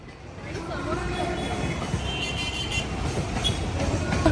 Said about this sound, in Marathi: O local train.